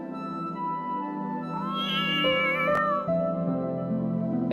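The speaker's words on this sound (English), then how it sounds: "A calico cat slinks by in front of me." A calico cat meows in the video game Root Letter: a drawn-out, rising-and-falling meow over a sustained tonal game backdrop, with no talking.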